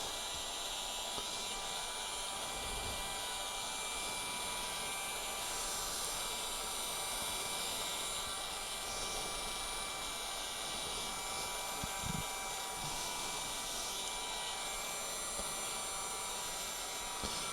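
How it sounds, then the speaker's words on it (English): A heat gun blows in a steady, loud, unbroken rush as a graphics kit goes onto the high front fender of a Yamaha Tenere 700 off-road motorcycle, with a couple of faint knocks partway through. "Never leave your heat gun in one place, just move it around, just to keep it a bit hot, but not too hot."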